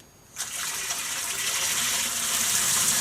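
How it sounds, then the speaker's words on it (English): Water gushes steadily from a tap just turned back on after a float valve repair on a tank with a dripping overflow pipe, starting abruptly after a brief quiet moment and continuing loud and even. "we've got loads of water coming out"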